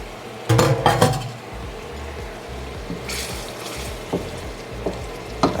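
Picadillo in tomato sauce is stirred in a pot. A spoon scrapes and clanks against the metal in a burst of knocks early on, then gives softer intermittent scrapes over a low background rumble.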